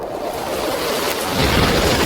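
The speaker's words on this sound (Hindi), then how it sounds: "यह तो बहुत जोर की बारिश आ गई।" Steady, dense roar of heavy rain pouring down, broadband and continuous, growing slightly louder toward the end, with no voices.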